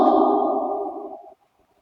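Reverberation tail in a basement reverb chamber: a loud, ringing sound that decays smoothly over about a second and a quarter, then cuts to near silence, with no voices.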